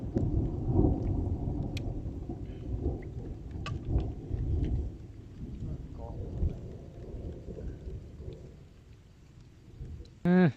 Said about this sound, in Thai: ฝนมาแล้วทุกคนเลย